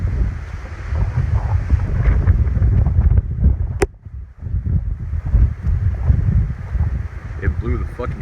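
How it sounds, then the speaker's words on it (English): Strong gusting wind during a Las Vegas dust storm, loud buffeting roar against the microphone that surges and briefly drops before returning, with voices talking faintly amid it. "I've never seen it this windy."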